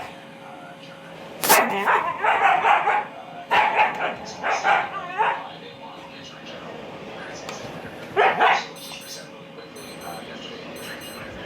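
Two dogs bark, yip and growl while play fighting, with close, loud bursts of barking in clusters separated by brief pauses and a steady faint hum underneath.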